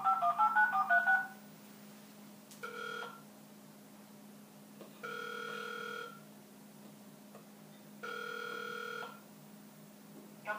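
Telephone dialing tones through a speakerphone on a DSP-board far-field voice recognition phone system: a quick burst of DTMF keypad beeps, then repeated ringback tones pulsing at steady intervals over a quiet electrical hum.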